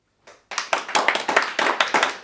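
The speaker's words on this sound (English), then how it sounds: "Let's have a round of applause for the English glorious revenge story" A small audience applauds an English revenge story at a storytelling event, starting after a brief pause and settling into a light, sparse rhythm of distinct claps from a few people, fairly close.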